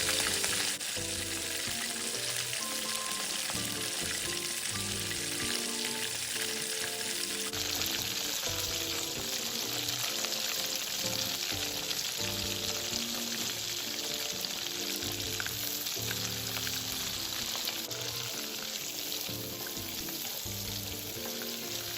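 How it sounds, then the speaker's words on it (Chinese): Fresh shrimp being flash-fried in hot oil after chicken pieces, a steady dense crackling sizzle that holds loud and continuous throughout with no talk. "再将预先备好的鲜虾过个油，虾蓉一熟，约1分钟左右就可以了"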